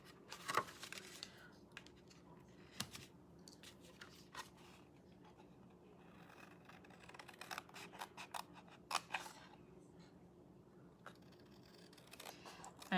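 Scissors snipping through black-and-white patterned paper, a quiet run of short crisp cuts with brief pauses between strokes.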